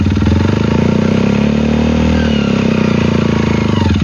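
Homemade ten-speed buggy engine pulling away in first gear with the clutch released, a loud, close, steady motorcycle-like drone that holds level throughout.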